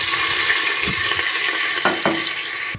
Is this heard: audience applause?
no